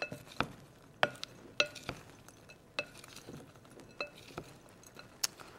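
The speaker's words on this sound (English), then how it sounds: "just give that a quick little mix so everything's kind of evenly mixed throughout the whole bowl" Broccoli salad ingredients tossed together in a bowl give a string of light, sharp clinks and taps at uneven intervals over a soft, quiet rustle. No one speaks.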